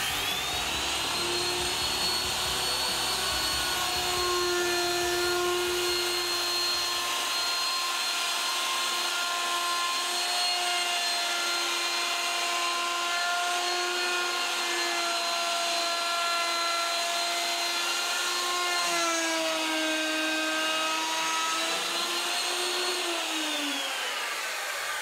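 A router cuts a chamfer around the edge of a wooden stool top, a loud high-pitched motor whine held steady for the whole stretch, with a slight dip and rise in pitch near the end as the bit loads and frees.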